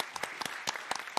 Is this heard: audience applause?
yes